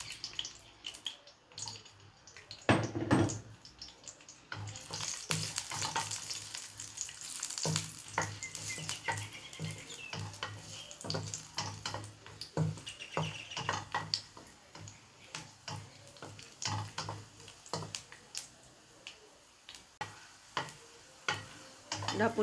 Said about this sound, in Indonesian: Pertama sekali saya akan just gorengkan buah gajus ya.